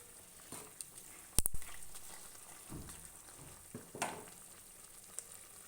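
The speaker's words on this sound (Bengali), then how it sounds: "দেখতেই পাচ্ছ বন্ধুরা সবজির ঝোলটা একটু ফুটে উঠেছে" Vegetable gravy simmering in a pan, with fried fish and eggplant for an amudi fish curry, giving faint, steady sizzling and soft bubbling broken by a few sharp clatters.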